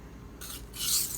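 Knife blade scraping over a DMT diamond plate, two short gritty rasping strokes, the second longer and louder, close-up with no talking.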